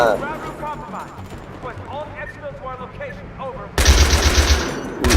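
Automatic machine gun fire in the co-op mode of the video game Battlefield 3, loud and close, with rapid bursts under excited shouting from a player in Thai.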